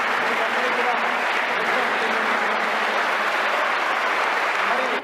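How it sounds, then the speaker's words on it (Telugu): An audience at a public tree-planting programme claps together in loud, sustained applause. It runs unbroken for about five seconds and then cuts off. "గౌరవ దేశ ప్రధాని నరేంద్ర మోడీ గారికి మనం చప్పట్లతో ఒకసారి అభినందించాలని చెప్పేసి"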